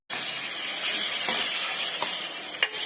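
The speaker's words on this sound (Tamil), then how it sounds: "என்ன தூள், மஞ்சள் தூள் எல்லாம் சேர்த்து இந்த எண்ணெயிலே நல்லா வதக்கிக்கலாம்" Steady, loud sizzling of spices, turmeric, garam masala and ground masala paste sautéing in hot oil for a spicy crab curry, with a few soft stirring clanks over the hiss.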